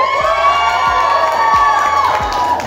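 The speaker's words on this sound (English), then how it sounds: "All Shreyal's family and friends, make some noise" Wedding reception guests at a country inn cheer, whoop and shout in a loud, sustained crowd roar, with children's shrieks and a steady thumping dance beat underneath.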